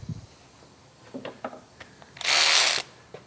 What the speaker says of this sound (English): First thing we're gonna do is take off the caliper.